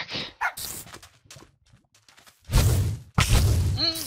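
Little dog mobs barking in the Minecraft Super Smash Mobs minigame, short game bark sounds and a whining yelp coming in two loud bursts amid scattered clicks and combat noise.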